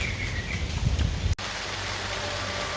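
Steady rain in Krabi, Thailand, patters over a soft outdoor hiss, broken by a sudden cut, then continues evenly and moderately loud.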